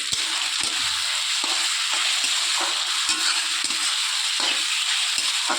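Cumin powder is stirred into an egg curry frying in a pan, a steady bright sizzle with the spoon scraping and tapping at irregular intervals, close and alone with no talking.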